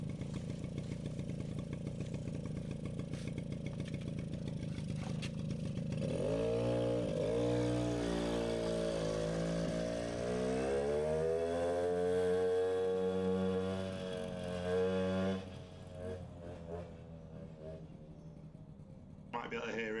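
A Suzuki LT50 quad's small engine idles low, then is opened up to full throttle. The pitch climbs and wavers as it bogs down before dropping off sharply near the end, loud and close with no speech over it.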